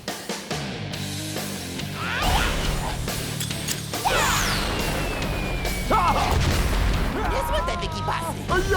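A rapid series of loud cartoon-style explosions and crashes from Teen Titans Go!, with whooshing and zapping effects between bursts, busy and chaotic throughout.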